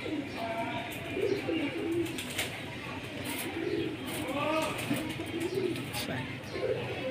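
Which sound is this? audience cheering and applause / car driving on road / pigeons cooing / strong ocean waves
pigeons cooing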